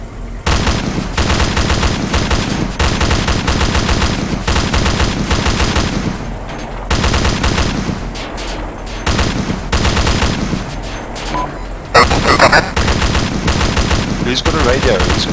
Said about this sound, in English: I don't know where we're being fired from. I'm just firing.